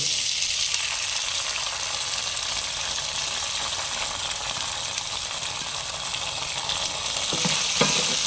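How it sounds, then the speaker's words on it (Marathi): Cooked jowar (sorghum) sautés in a pan for khichdi, a continuous bright sizzle with soft stirring rustles, close and steady, ending with a couple of spoon knocks and no speech. "आता यामध्ये मी ही शिजवलेली ज्वारी घालत आहे"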